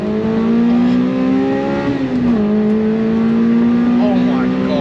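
An engine-swapped, naturally aspirated Toyota MR2 accelerates hard, its engine note loud and close as it climbs steadily in pitch, dips briefly at a gear change, then rises again.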